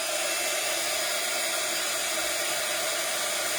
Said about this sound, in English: Okay, so now I will dry this.